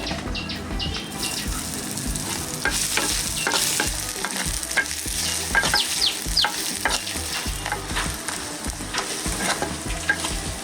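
Small pieces of dried red chilli and chopped onion temper in hot oil for a Jaffna-style dates chutney. A dense, continuous crackling sizzle runs throughout, with frequent scraping stirs and a faint chirp of birds in the background.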